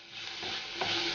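Crushed ginger and garlic sautéing in a pan for Kerala-style fish curry, a steady close sizzle with a stirring scrape partway through.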